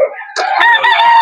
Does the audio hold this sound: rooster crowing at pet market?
yes